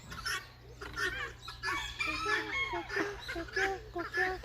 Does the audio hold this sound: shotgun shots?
no